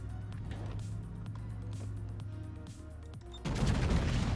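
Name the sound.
battleship gun salvo firing in World of Warships video game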